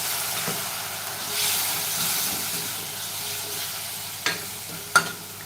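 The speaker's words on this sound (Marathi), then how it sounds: "आता हे सर्व मसाले ना आपल्याला चांगले परतून घ्यायचे पण परतत असताना थोडंसं पाणी घालूया" Spices for a sukat batata rassa curry sauté in a pan with a splash of water, giving a steady, close sizzle. A few sharp spoon clacks against the pan ring out near the end.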